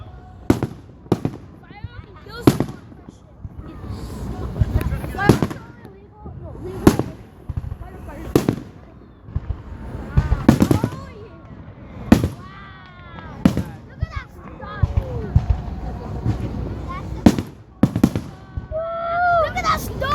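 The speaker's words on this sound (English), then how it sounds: "Fireworks." Fireworks burst repeatedly overhead in loud, sharp cracks and booms spaced a second or two apart, some followed by crackling, while people talk and exclaim throughout.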